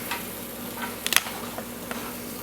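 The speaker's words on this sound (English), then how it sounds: "Work off the solids that are kind of stuck to the bottom of the pan." Curry paste being stirred into coconut milk in a pan, the utensil scraping stuck solids off the bottom, giving a soft steady simmer with a few sharp scrapes and clicks in the middle, close and fairly quiet.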